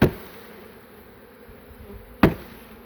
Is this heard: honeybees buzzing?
yes